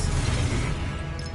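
Expelliarmus spell cast in a Hogwarts wizarding video game, a brief loud burst with a low rumbling impact and crackling magical whoosh that fades quickly.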